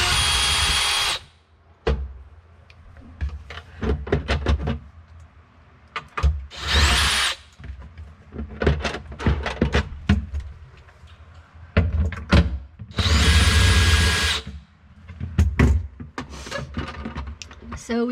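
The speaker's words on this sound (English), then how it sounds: "We actually had to get an extender for our drill here so that it could go deep enough." A power drill fitted with a long extender whirs in several bursts, some long and loud, as it backs screws out deep inside a GE GNE26GSDGSS refrigerator during an evaporator fan repair, with a person talking between the runs.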